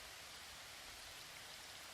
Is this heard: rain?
yes